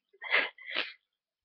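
A person sneezes twice in quick succession, close and fairly loud, each burst short and breathy, with silence before and after.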